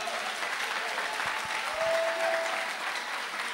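A church congregation breaks into sustained applause praising the Lord, a dense, even roar of many hands clapping at mid distance, with a faint voice rising briefly within it.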